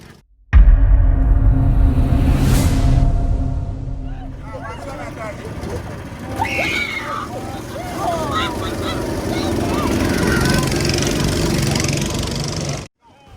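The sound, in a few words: go-kart engines during a race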